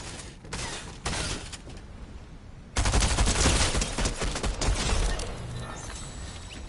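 Gunfire in the Fortnite video game: clusters of rapid shots and a heavy, sustained volley of automatic fire crackle loudly in dense bursts, with some metallic mechanism clatter and no talking.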